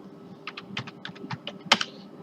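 Computer keyboard being typed on during a Linux installation, about a dozen quick, close, distinct keystrokes in an uneven rhythm ending with one sharper press, with no voice.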